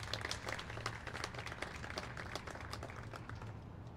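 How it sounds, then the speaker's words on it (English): Applause for first responders at an outdoor Flag Day recognition ceremony in Colorado Springs; a faint, distant, even patter of clapping from a gathered crowd, steady across the whole stretch with a low hum beneath. "I'd like to give them a round of applause as we celebrate"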